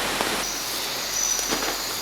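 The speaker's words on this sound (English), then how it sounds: "It's been raining almost non-stop for the last 2 days." Heavy rain falling steadily outdoors at a wet camp, a dense even hiss with a faint high insect tone above it.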